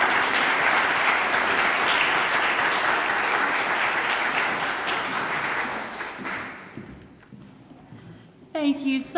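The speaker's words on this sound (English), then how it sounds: "Let's give them all another big round of applause" An audience at an Optimist Club of Lynchburg YLANE program claps loudly and continuously, then the applause tapers off, and a voice begins speaking over a microphone at the end.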